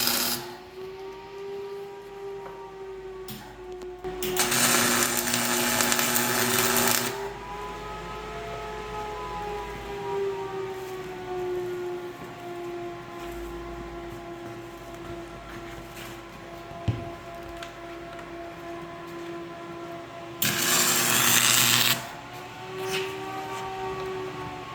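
A MIG welder runs at 26 volts and 500 inches a minute on a Kodiak Topkick truck frame being stretched. A steady buzzing arc hums with a droning whine throughout, and two short loud crackling bursts stand out near the start and near the end.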